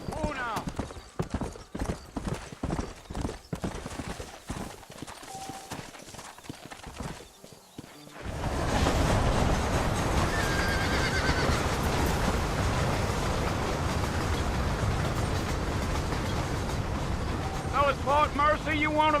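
Horse hooves clip-clopping in the Western game Red Dead Redemption, a steady trotting rhythm under men's conversation, then a louder gallop with rushing ambience and a brief whinny near the end.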